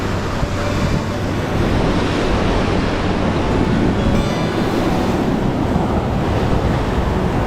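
Ocean surf breaking on the rocks at Seal Rocks, a constant loud wash of waves mixed with strong wind buffeting, and no voices present.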